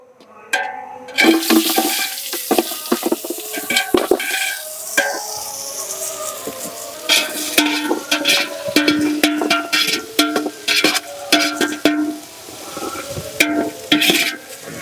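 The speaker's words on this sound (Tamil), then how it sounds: "இங்கிட்ட வந்து முள்ளங்கி லைட்டாக வதக்கிடுவோம் சாம்பாருக்கு" Radish sautéed in a pan for sambar in a large kitchen, loud continuous sizzling with repeated stirring scrapes and clanks, no talking.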